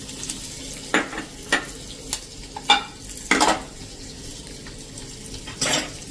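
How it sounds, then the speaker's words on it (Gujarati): Chillies, ginger and chopped cashews and almonds tempering in hot oil for jowar idli, a quiet sizzle broken by several sharp crackles and spoon-against-pan scrapes. "અને હવે આ વઘારને એકદમ સરસ આપણે આ રીતે તેલમાં જ કકડાવી લેશું"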